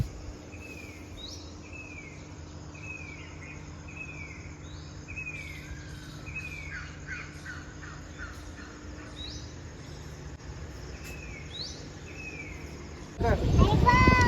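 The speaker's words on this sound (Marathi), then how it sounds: "बाहेर थांबली आहे मी थोड्या वेळ म्हटलं जरा पक्ष्यांचे आवाज ऐकूयात" Several birds call and sing repeatedly at a moderate distance in quiet early-morning surroundings, with chirps and whistles overlapping; a sudden loud rustle breaks in at the end.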